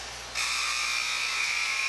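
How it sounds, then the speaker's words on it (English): End-of-period buzzer at a hockey game after two periods, a loud sustained electronic drone that kicks in suddenly and holds steady over faint arena ambience, with no one talking. "But that's picked off by Zucker, and that gets us to the buzzer after 2 periods"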